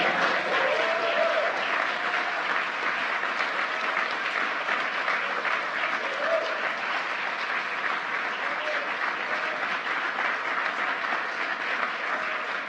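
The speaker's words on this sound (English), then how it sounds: "Let's give one more round of applause" Sustained applause from a large crowd, loud and steady from start to finish without a break.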